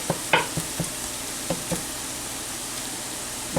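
Ground beef, not fully thawed in the middle, browns in a pan on the stove for cheeseburger helper, with a steady close sizzle broken by occasional light knocks of a utensil stirring and scraping.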